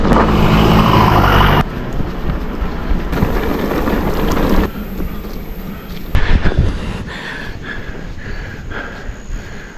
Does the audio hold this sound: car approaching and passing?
yes